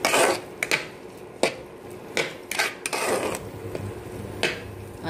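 Green peas being roasted in a pan, with a spoon scraping and knocking against the metal in irregular clanks and rasps, several per second at moments, close by and fairly quiet.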